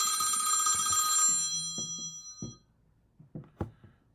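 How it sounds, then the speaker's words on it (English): A mobile phone ringing during a livestream, one loud sustained ringtone burst that cuts off, followed by a few soft knocks and faint rustling. "I'm going to put my phone on silent."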